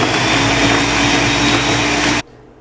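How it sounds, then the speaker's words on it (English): A blender whirs loudly as it mixes a protein shake, holding a steady motor roar for about two seconds before cutting off abruptly into near silence. "Blender up, blender up."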